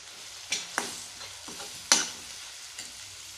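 Tomatoes with salt sautéing in a pan for street-style pav bhaji, a soft continuous sizzle broken by several sharp, close spatula scrapes and stirs at irregular intervals.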